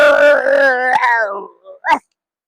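A person imitates a tense dog's howl, voicing one long wavering tonal howl that slides downward and fades, followed by a short sharp yelp.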